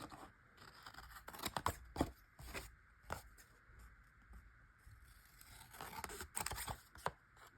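Scissors snip through folded paper for a small handmade notebook in a few quiet, crisp bursts of cuts, with soft rustling of the paper between them.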